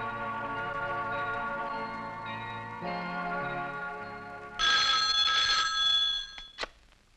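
A telephone rings in a scene from the 1996 Hindi film Bhishma. A bright, loud burst of ringing cuts in partway through, over a sustained tonal background, then stops abruptly.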